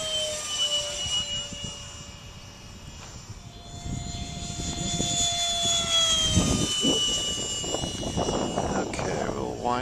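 RC model EF-16 jet cruising at half throttle in a steady hum, its whine rising and falling gently as it passes, with a person talking over it.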